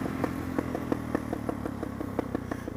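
Engine of a dual-sport motorcycle, a Suzuki DR-Z400SM or Yamaha WR450, running continuously on a test ride, with a steady mid-pitched drone and rapid regular pulsing firing beats throughout.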